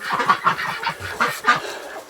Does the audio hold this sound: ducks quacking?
yes